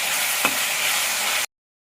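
Tomatoes being stirred into ladyfinger (okra) curry frying in a pan: a steady close sizzle with a single scrape of the spoon, cut off abruptly.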